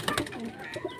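Soft pigeon cooing mixed with light fluttering and splashing as pigeons bathe in water, close by, with a few brief irregular calls.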